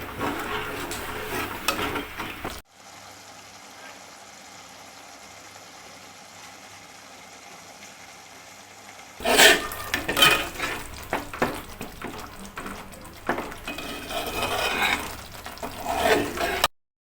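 Oil sizzles in a pan as ingredients for coriander rice are fried and stirred, with close scraping and stirring at the start and end around a long, steady, quieter frying hiss in the middle.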